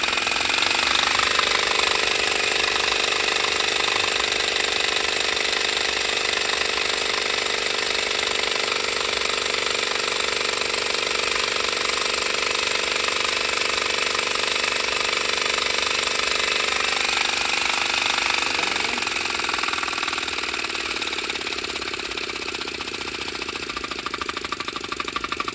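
Prototype linear gear drive engine without a crankshaft running steadily, a loud continuous mechanical clatter and hum that shifts slightly in pitch as the speed changes near the end.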